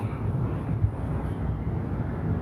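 A fixed-wing airplane passes overhead near a garden path at a former naval training center in San Diego, a steady low droning rumble that holds at a moderate level throughout, with some wind noise and no talking.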